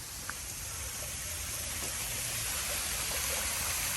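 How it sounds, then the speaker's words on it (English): A waterfall in San Francisco gives a steady, dense rushing roar of falling water that holds close and even throughout, with no voices over it. "we've been filming waterfalls, so I thought you might want a waterfall in San Francisco"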